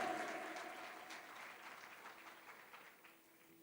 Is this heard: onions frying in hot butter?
no